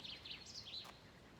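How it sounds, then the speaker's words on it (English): Birds sing and chirp softly outdoors on an early morning walk, a few faint high warbling phrases over light background hiss, with one brief sharp sound near the end. "Birds are singing this morning."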